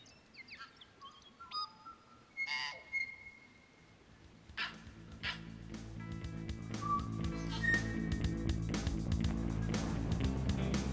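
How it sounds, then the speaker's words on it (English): Tui calling in New Zealand bush during a wild pig hunt: scattered whistles, chirps and clicks in the first seconds, then fading under a steadily rising rumble of engine noise. "even our mate the tui."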